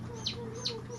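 Chickens cluck close by, two short sharp calls about half a second apart over a low background hum.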